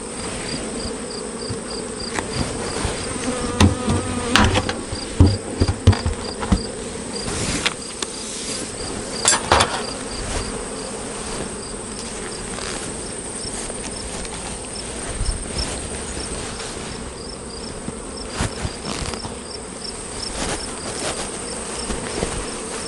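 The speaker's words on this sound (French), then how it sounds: "je suis entouré d'abeilles" Honeybees swarm around open hives during a mid-August honey harvest, a dense, steady buzz of many insects close by and alone with no talk, broken by a few louder passes near the start.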